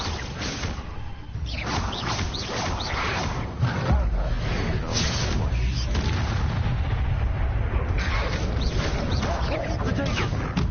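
Expelliarmus disarming spell cast during combat in Hogwarts Legacy: a dense, continuous barrage of booming, crackling blasts and impacts, with a heavier low thump partway through, and voices mixed in.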